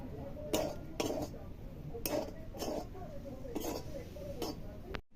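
A metal utensil clinks against a pot while kheer is mixed, a series of bright, close knocks at a loose, uneven rhythm over a low steady background.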